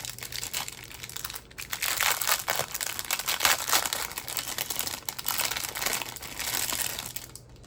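Plastic packaging for a set of six diamond painting coasters on a black metal stand being torn open, with steady close crinkling and crushing that goes on throughout, no talking.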